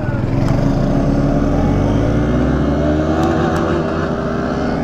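A Honda CBR 650 (650 cc) motorcycle accelerates hard, its engine note climbing steadily for about five seconds, loud and close, with no talk.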